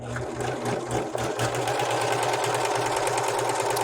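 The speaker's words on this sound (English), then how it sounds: "Make sure the foot's down when you're serging so your thread has tension." A serger sewing machine runs steadily and loudly close by, a continuous whirring hum with a fast mechanical rhythm, heard during threading and troubleshooting with no talking over it.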